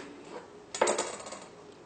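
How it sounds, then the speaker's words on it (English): A knife cuts a slice of marbled chocolate cake and scrapes against the plate, giving a brief close clatter of metal on dish over faint room noise, with no one speaking. "We'll cut another slice."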